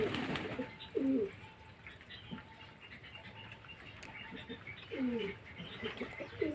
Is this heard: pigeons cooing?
yes